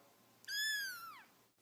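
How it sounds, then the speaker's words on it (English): A cat gives a single clear meow, drawn out and falling in pitch, close and fairly quiet, heard alone. "Meow, meow, meow, meow."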